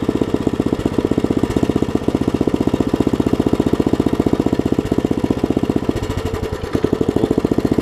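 A Briggs & Stratton 5 hp engine on a Craftsman tiller idles throttled down low, thumping in a fast, even, loud chug close by, then stumbling briefly near the end before picking back up.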